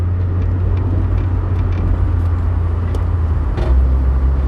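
A car takes a corner at about 30 mph, its engine and road noise making a steady low drone heard from inside the cabin, with a brief swell near the end.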